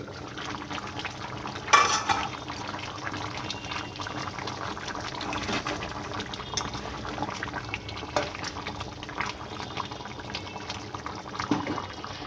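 A pot of food boils over a village cooking fire, giving off a soft, steady bubbling. Occasional clanks and one sharper knock of a lid or utensil break through, and no one speaks.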